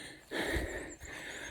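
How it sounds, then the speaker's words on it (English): A hiker on the Appalachian Trail, worn out from an uphill climb, breathes heavily and close to the mic. Breaths come as loud gasps and snorts in a steady rhythm over faint outdoor noise. "enough of my heavy breathing"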